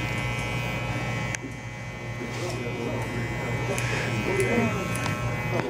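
Electric hair clippers buzz steadily close up while cutting and blending a child's fade haircut, a constant hum running under a person talking throughout.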